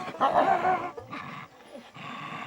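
Dogs in training as tiger hounds growl and snarl in rough, rumbling bursts, fairly close, with uneven pauses between the growls.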